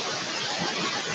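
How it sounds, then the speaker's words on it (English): Steady dense patter of rain on a metal roof, a constant hiss-like drumming with no voices. "That's probably what you're hearing is rain hitting the metal roof."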